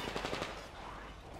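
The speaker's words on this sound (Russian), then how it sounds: "Кто там стреляет?" Rapid automatic gunfire in the video game Metro Exodus, Sam's Story: a loud, close burst of fast shots that blurs into a sustained rattling roar.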